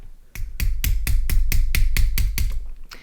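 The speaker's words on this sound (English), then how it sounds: "use the plastic part of the hammer in order to push that metallic pin inside" A series of about ten sharp, evenly spaced taps, close and crisp, as a plastic hammer pushes a metal pin into a Fossil chronograph watch bracelet.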